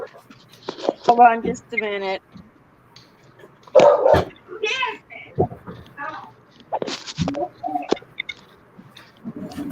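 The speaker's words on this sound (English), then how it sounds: "I know you can hear my dog barking in the back." A dog barks a few times in short bursts behind a person talking close by, the barks sharp and somewhat distant.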